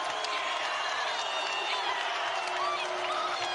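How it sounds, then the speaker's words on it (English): A basketball crowd at Liberty Arena roaring and cheering during a game, a continuous broad crowd noise with some scattered clapping, steady and moderately loud throughout. "Crowd's into it now."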